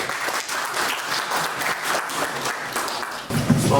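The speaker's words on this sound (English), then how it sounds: "So let's welcome with a round of applause." Audience applause welcoming a grade 12 youth poet to the stage at an open mic event, a steady wash of many hands clapping throughout, fairly close and full, with a slight lift near the end.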